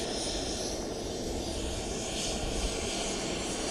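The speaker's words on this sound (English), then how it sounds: "As the plane draws closer," The aircraft carrying Ghana's president fills the air with a loud, steady engine roar as it approaches on arrival at the airport, a broad, even rush with no speech over it.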